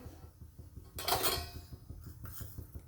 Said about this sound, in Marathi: कढई ठेवली थोडंसं तेल टाकायचं